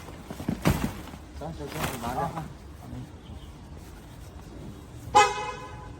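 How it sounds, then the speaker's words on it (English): A car horn honks in a crowded residential street where a courier's motorcycle blocks the road, a few short blasts amid voices talking and street noise, with one sharper honk near the end. "A car honked, and he had to rush to push it away."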